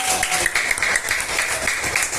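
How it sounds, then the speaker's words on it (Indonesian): Students in a classroom clap their hands together in a steady, dense patter of applause that fills the short stretch, with a faint voice or two mixed in. "Baik, tepuk tangan ya yang buat belajar."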